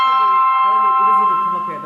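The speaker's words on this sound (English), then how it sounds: "That's my phone ringing." A mobile phone ringtone chimes steadily during a live stream, its tone sustained and clear, with faint voice-like sounds murmuring underneath.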